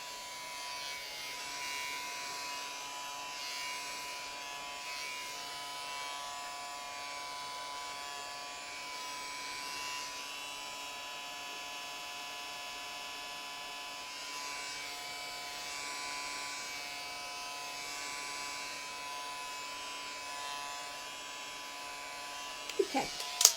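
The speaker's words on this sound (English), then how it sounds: "I got this heat gun because it was supposed to be much more quiet than a hairdryer" A heat gun blows continuously with a steady high-pitched whine and airy hiss, unchanging throughout, ending with a few small clicks.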